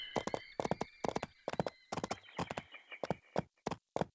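Horse hooves clip-clop in a steady, rapid rhythm of paired beats in the Barbie Horse Adventures video game, with a whinny woven through the first half; fairly close and clear, no talk.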